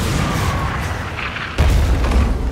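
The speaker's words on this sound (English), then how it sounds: "Position fixed! Open fire!" Ship cannons firing in the naval combat game Skull and Bones: a loud sustained boom that swells into a heavier blast halfway through, with no talking.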